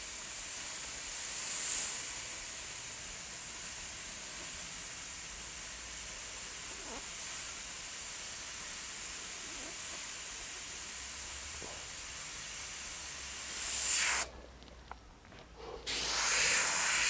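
An airbrush sprays paint onto a racing driver's helmet, giving a steady, close hiss that runs continuously, then cuts out briefly before resuming.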